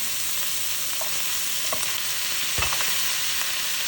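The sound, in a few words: vegetables sizzling as they are dropped into a frying pan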